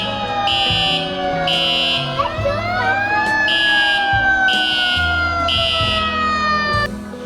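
A fire brigade truck siren wails loudly and close, its rising and falling tones sweeping over a steady pulsing alarm buzzer as the engine arrives after a fire alarm went off at a home in the USA.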